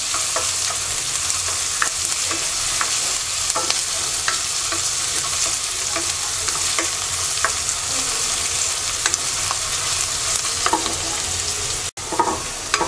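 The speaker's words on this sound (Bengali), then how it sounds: "রসুন পেঁয়াজটাকে বাদামি কালার করে ভেজে নেব।" Onion and garlic fry in a pan while being stirred, a steady close sizzle with frequent scraping clicks of the spoon, continuing throughout and briefly dropping out near the end.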